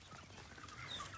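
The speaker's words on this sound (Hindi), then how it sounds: "मुर्गियाँ हो गई हैं जी, ये मुर्गियाँ हो गई हैं" Chickens clucking on a farm where ducks are also kept, a steady, fairly faint stream of soft clucks and calls heard continuously with no talk.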